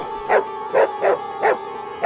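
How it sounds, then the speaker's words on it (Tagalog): A dog barks in a rural setting, four sharp, evenly spaced barks at moderate distance against a quiet background, with no speech over them. "may aso"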